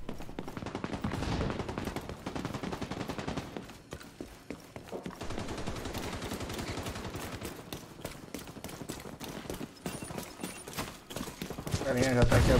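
Gunfire in The Division 2, dense rapid bursts of shots crackling through most of the stretch, loud and busy, with voices talking over the shooting at times.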